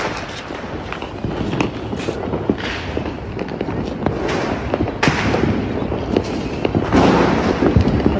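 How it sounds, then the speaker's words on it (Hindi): Crackling Diwali rocket fireworks with a rushing launch and repeated bursts and thuds, dense and noisy throughout, moderately loud and close. "अब बारी आ गई है रॉकेट की, ये देखते हैं इसका क्या धमाका है।"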